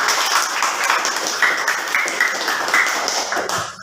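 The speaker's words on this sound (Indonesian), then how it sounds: "kita kasih tepuk tangan untuk kelompok" Classmates give a student group a short round of applause in a classroom, a few seconds of fairly quiet, dense clapping with no talk.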